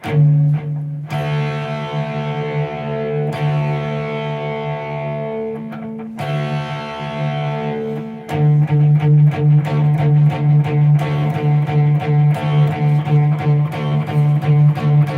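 An electric guitar plays paired notes on the 4th and 3rd strings, some ringing out and others in a quick, steady picked rhythm, with a slightly overdriven tone.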